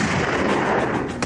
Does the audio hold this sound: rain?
no